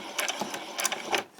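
A sewing machine running forward stitches on a white summer top: soft, close, rapid clattering in short uneven bursts, alone.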